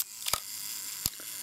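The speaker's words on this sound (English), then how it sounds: "You can hear it winding up a little mechanism" Kodak Retina IIIc 35mm rangefinder camera with its self-timer mechanism: a sharp mechanical click, a short whirring pause, then another distinct click, all close and quiet over a faint steady hum.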